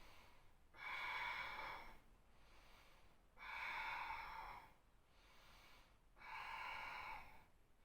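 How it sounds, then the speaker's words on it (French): Slow, deliberate Ujjayi breaths through a constricted throat during a hatha yoga posture with legs raised toward the sky, three long hissing ocean-like exhalations about every two and a half seconds, close and quiet with no talking. "respiration Ujjayi, respiration glottique."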